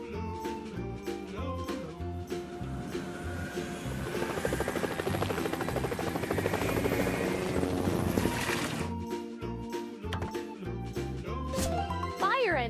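A firefighting helicopter effect from a children's toy repair cartoon swells into a whirring rotor roar for several seconds over cheerful background music, then cuts away.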